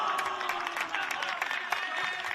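A crowd at an NPL men's football match between Moreton City Excelsior and Olympic FC cheers and claps in a lively, continuous roar, with a voice faintly audible underneath.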